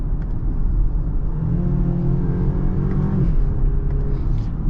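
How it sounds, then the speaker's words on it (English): A 2022 BMW X3 compact luxury SUV with a turbo engine pulls away from a dead stop. Its low engine drone rises steadily and stays loud and close throughout, with a muffled whir heard from inside the cabin. "I'm going to try to accelerate from a dead stop without brake boosting, just to see how the turbo in this X3 is"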